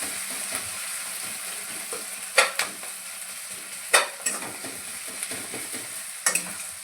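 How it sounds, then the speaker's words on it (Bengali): Onions fry in oil ahead of cooking chicken, producing a continuous close sizzle broken by a few sharp clacks of a spatula stirring the pan, with no voices. "তেলে পেঁয়াজ ভাজা চলছে এখন।"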